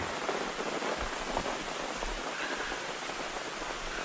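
Steady rain falls outdoors by Lake Eaton in the Adirondacks in autumn, a dense continuous hiss of drops pattering on surfaces, close by and fairly loud with no voices.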